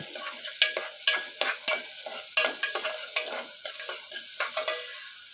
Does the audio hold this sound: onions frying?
yes